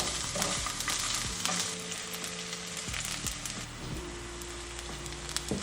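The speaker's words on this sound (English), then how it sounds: "I'm gonna also add in some sage leaves, I think, and like fry this all up" Shallot, garlic and sage leaves fry in oil over butter, a constant crackling sizzle with occasional stirring, accompanied by steady humming tones of background music.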